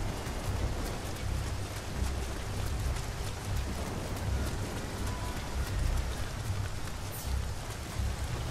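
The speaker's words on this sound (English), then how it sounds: "I'm liking the rain on the ground." Rain falls on the ground in the video game Nioh, a constant even hiss and patter with no break, fairly soft and spread wide.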